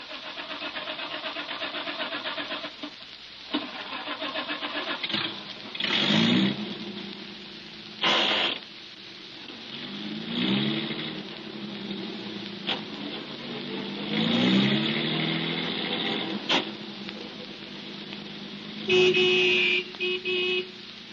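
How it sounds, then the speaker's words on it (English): Vintage radio-drama sound effect of a car engine cranking, catching and revving, then a sustained mid-pitched motor drone with gear changes as the car pulls away. A few short toots and bumps are mixed into the old, band-limited recording. "We drove away from Willow Springs, got out onto the highway, and started toward town."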